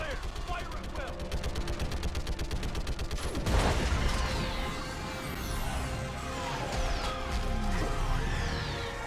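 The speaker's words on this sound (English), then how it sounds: "I need an orbital strike" Orbital strike explosions in the video game Mass Effect: a rapid rattling barrage of blasts gives way to a heavy crashing impact and rumbling debris, loud and continuous, with voices speaking over the action.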